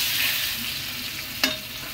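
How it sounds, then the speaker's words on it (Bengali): Potatoes fry in a pan with a constant close hiss of hot oil, and a single sharp clack of a spatula marks a stir partway through. "এটা আলুটা ভাজা হতে থাক"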